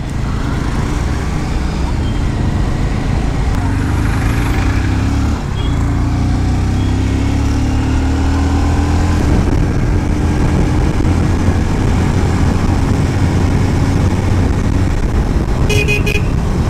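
A Bajaj Avenger Street 160 motorcycle rides along an ordinary road in traffic, its steady engine drone and road rumble continuous throughout, with car horns honking near and far and passing vehicles mixing in.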